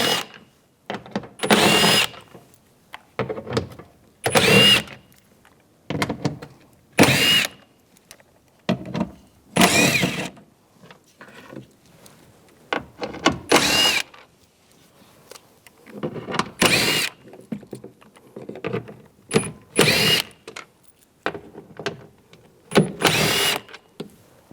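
Bolts on the rear exterior door handle of a 2011-2018 Ram 1500 come out with a 10mm socket on a power tool, short sharp whirring bursts repeating in irregular succession, close and without talk.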